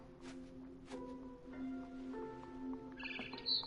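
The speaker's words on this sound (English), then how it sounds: "Then I heard chirping outside my window." A barn swallow chirps in the video game What Remains of Edith Finch, a few quick bright tweets standing out over a soft ambient hum and quiet rustling, with the loudest chirps near the end.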